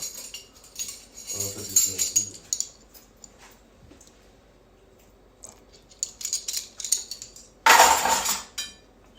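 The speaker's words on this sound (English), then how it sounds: "then you just want to stir everything together" Browning seasoning stirred into pot roast ingredients for an Instant Pot roast with carrots and potatoes: scattered metal-on-metal scrapes and clinks, with soft talk early on and a loud rattling burst of utensil against pot near the end.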